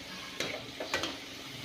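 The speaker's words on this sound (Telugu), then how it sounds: "నూనె వేడయ్యాక ఇలా పెట్టుకున్నా వేయించుకోవాలి గవ్వల్ని." Gavvalu, small shell-shaped sweets, deep-frying in hot oil, a soft steady bubbling sizzle close by, broken by a few quick clinks and stirs of a slotted spoon.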